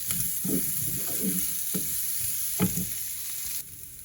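Onion frying in a pan with ginger, garlic, green chillies and cashews for a peas mushroom masala curry, a steady close sizzle broken by several scraping stirs, no voices.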